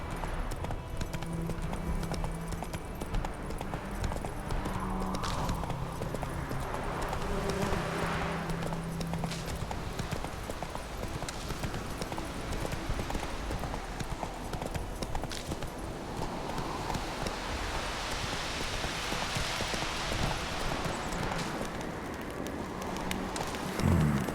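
Roach, a horse in The Witcher 3, gallops with steady, continuous hoof clip-clops over a constant bed of outdoor ambience, with a faint hint of rain.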